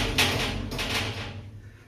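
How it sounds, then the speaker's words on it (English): A bathroom shower door slides and bangs loudly with two sharp knocks close by, followed by a fading rattle and hum. "this damn shower door gets real loud"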